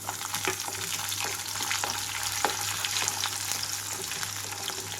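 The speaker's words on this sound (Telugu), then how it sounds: "రెండు నిమిషాల పాటు వేయించుకుంటున్నాను" Chopped onions and green chillies frying in a pan with chana dal for sorghum rava upma, a steady close sizzle with scattered crackles and pops and no speech.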